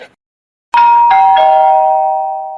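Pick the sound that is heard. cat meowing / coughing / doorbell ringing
doorbell ringing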